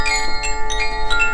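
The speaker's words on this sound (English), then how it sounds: "I think Japanese, koshi chimes." Japanese koshi chimes, tuned and holding small rods inside, tinkling in rapid irregular strikes with bright bell-like tones that ring on and overlap, close and clear without speech.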